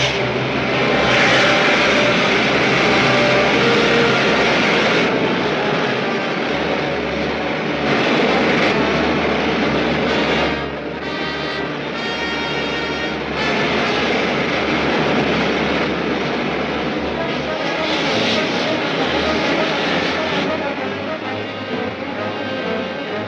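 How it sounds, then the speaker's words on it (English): Rocket main jets firing in an old serial, a loud steady roaring rush that holds continuously throughout with slight surges and dips, no voices over it. "Fire main jets."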